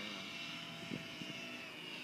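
A remote-control Mini Super Cub model airplane flying on a windy day, its faint steady propeller drone buzzing at a distance.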